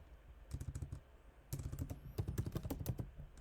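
Keys clatter on a computer keyboard as a short command is typed, two quick bursts of close, crisp taps separated by a brief pause, with no voices.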